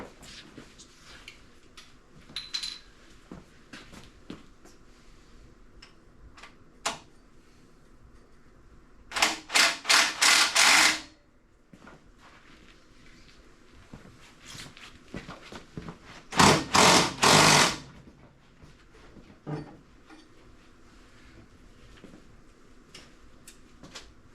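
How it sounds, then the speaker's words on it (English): Two loud bursts of a pneumatic rattle gun (impact wrench) hammering on a car axle during an axle installation, each a rapid stuttering run of about two seconds, separated by quieter shop clatter and small knocks. "I gotta hit the rattle gun"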